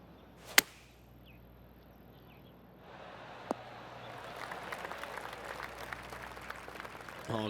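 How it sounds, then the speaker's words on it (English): Polite golf clap from spectators after an approach shot from about 105 yards at a golf tournament: a couple of sharp isolated knocks, then soft, scattered distant clapping that gradually thickens. "Oh, golf clap."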